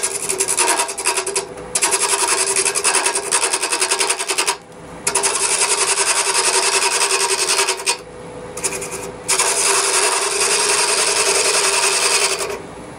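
A shortened R2 cutter turns Corian on a lathe as a pen-turning job, giving a steady loud rasping cut that stops briefly a few times between long passes, with no talk.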